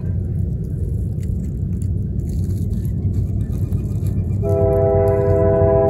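Train rumbling steadily past a raised-bed vegetable garden in Manitoba, a low continuous roar joined near the end by a loud, sustained horn blast.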